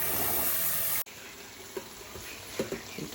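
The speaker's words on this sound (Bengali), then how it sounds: "এভাবে 5-6 বার এই চালটা ধুয়ে নিতে হবে" Rice being washed with tap water in a kitchen, a steady rush of running water that cuts off abruptly, followed by faint splashes and grain swishing in the pot.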